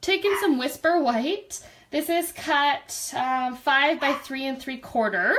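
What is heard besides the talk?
No distinct noise like a dog, phone or traffic.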